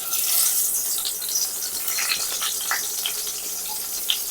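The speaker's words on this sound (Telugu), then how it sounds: "ఇప్పుడు నూనె అయితే కాగిపోయిందండి," Eggplants drop into hot oil for Andhra-style stuffed brinjal, setting off a close, crackling sizzle that fizzes continuously with scattered sharper pops.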